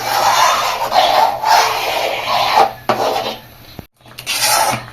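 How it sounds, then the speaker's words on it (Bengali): A spoon scrapes and rasps steadily against the bottom of a pot while rice cooks for Bengali payesh, close and fairly loud, in repeated stirring strokes with a brief pause near the end. "চালটা যতক্ষণ না সেদ্ধ হয় এইভাবেই নেড়ে যেতে হবে।"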